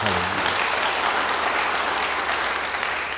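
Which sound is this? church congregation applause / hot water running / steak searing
church congregation applause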